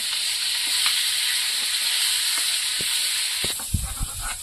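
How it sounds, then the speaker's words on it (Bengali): River laufoli fish frying in oil, a steady close hiss and sizzle running throughout, with a few soft clinks and scraping knocks of stirring near the end. "মাছগুলো ভাজতেও খুব সুন্দর, একদম ইলিশ মাছের মতন তেল বেরোচ্ছে"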